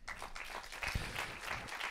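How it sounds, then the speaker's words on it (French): Audience applause in the French National Assembly in Paris during a conference on violence against women, a steady wash of many hands clapping at a moderate distance, fairly quiet, with no voices over it. "Vous pouvez vous applaudir encore une fois."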